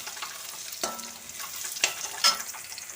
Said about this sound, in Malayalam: ഇത് നല്ല പോലെ ഇളക്കി കൊടുക്കാം കേട്ടോ.